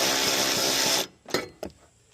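A power tool drives tail light bolts into a 2002 Acura RSX Type S with a steady, loud whirring buzz for about a second, then stops, followed by two short clicks and clanks of the tool and bolts.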